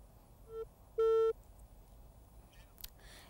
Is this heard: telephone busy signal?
yes